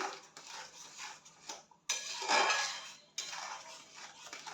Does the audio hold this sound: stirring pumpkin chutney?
yes